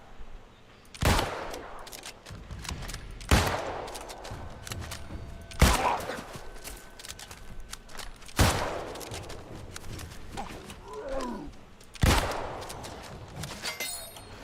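Gunfire in the New World video game: five loud, sharp shots spaced a few seconds apart, each with a ringing tail, over a low ambient game background.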